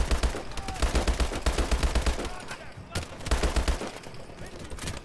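Rapid automatic gunfire from the Call of Duty Advanced Warfare video game comes in repeated bursts with short pauses, loud and punchy with heavy low thuds, and a voice speaks briefly between the volleys.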